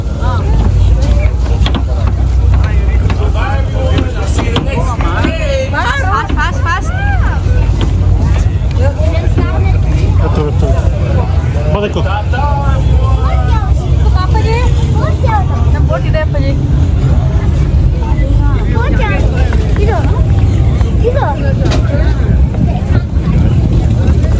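A tour boat motors through the waters of Everglades National Park in Florida with a steady, loud engine and wind rumble throughout, while people talk over it.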